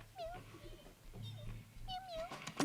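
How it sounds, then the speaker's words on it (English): Kittens meow in a short run of high, rising calls, several overlapping, with a low steady hum underneath and a brief sharp louder cry near the end. "Let's get these kittens looked at."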